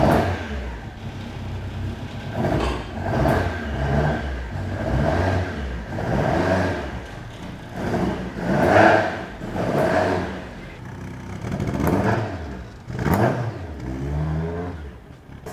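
Toyota AE86 cars being driven out onto the road, engines revving in repeated rising swells and easing back, fairly close with no talking over them.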